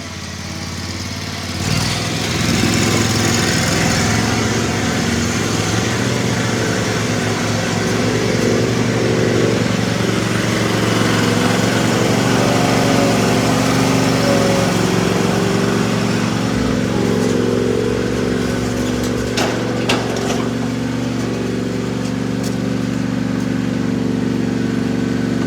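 A Hustler Dash XD zero-turn mower engine runs steadily for a long stretch while being loaded onto a trailer, a loud mid-pitched drone with a few clanks toward the end.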